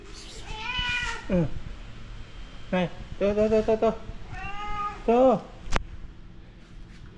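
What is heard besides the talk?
cat meowing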